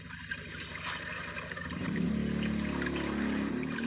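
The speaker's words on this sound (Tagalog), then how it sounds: "May motor tayong naririnig." A motorboat engine in a mangrove setting grows from faint to a steady, louder low drone halfway through, passing nearby over trickling water with no talk.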